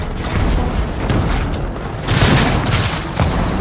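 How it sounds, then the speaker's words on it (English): An enemy blowing up on death in Gears of War 4 combat, heard as a dense, loud roar of explosive rumble and crackle that swells midway and continues steadily for several seconds. "they blow up real good when they die"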